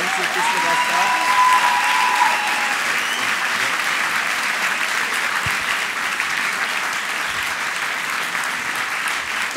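Sustained, dense audience applause fills a hall at a Medianight digital media awards event at Hochschule Furtwangen, loud and even throughout with no breaks.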